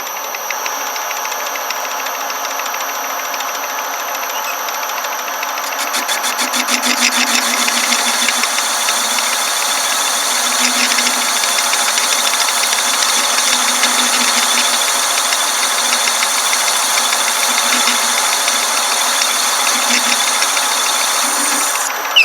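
Angle grinder spinning at raised speed as it cuts with a Chinese cutoff disc, a loud steady high-pitched whine and grinding hiss that holds for the whole stretch, growing slightly louder midway.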